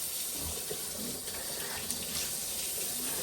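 Water runs steadily from a household tap into a sink, a continuous broadband rush with a few soft splashes and clinks, fairly close and without talk.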